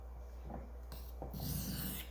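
A knife slides across a whetstone in a faint, close grinding stroke that builds into a brighter rasp before tapering off, over low background hum.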